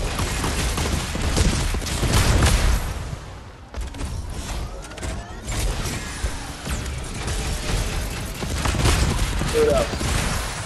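Dense, continuous gunfire and crashing in the Fortnite video game form a loud, chaotic wash of rapid shots and impacts that runs throughout with little pause.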